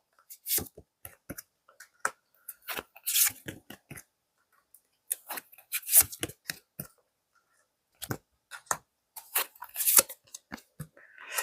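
Tarot cards are drawn and shuffled, with a long run of crisp, close flicks, snaps and rustles in short irregular bursts and brief pauses between them, no talk.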